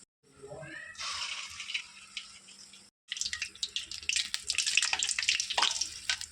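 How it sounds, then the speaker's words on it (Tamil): Moong dal paniyaram batter dropped into hot oil, a sharp rising sizzle that settles into steady crackling and bubbling, close and loud, after a brief voice at the start. "இந்த மாதிரி எண்ணெயில் போட்டுக்கலாம்"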